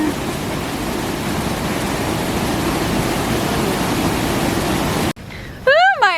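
A raging waterfall river in a Hawaiian jungle bamboo forest gives off a loud, steady rushing roar for about five seconds. It cuts off abruptly and is followed by brief high, warbling vocal sounds.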